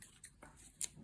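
Scissors snipping crochet yarn on a small flower project, a couple of faint, crisp close-up clicks within a quiet second, the sharpest cut near the end.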